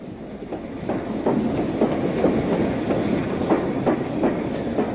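A train pulls into London's Paddington station past pilot engines, wheels beating a steady clickety-clack over rail joints under a continuous low rumble, close and fairly loud with no voices.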